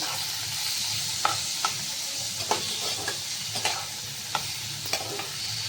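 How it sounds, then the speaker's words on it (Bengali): Boiled taro stolons (kochur loti) being stirred in a pan over low heat, a steady frying hiss with a series of soft spatula scrapes and taps at regular intervals, no voices. "সেদ্ধ করা লতিটা দিয়ে দিলাম একটু হালকা আঁচটা একটু কমিয়ে দিচ্ছি আর একটুখানি নেড়ে নিচ্ছি"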